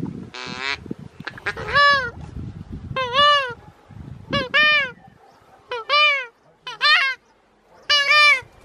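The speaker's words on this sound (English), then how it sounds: "just a nice mob of ducks came in and Jared managed to pull a nice shot off" A flock of ducks arriving over a back pond on opening weekend of duck-shooting season in Southland calls in repeated loud, nasal honking bursts, with faint voices and rustling underneath.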